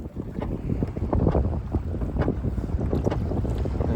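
Wind blows over a boat on Lake Texoma, a constant buffeting rumble of microphone wind noise with soft water slaps against the hull and no talking.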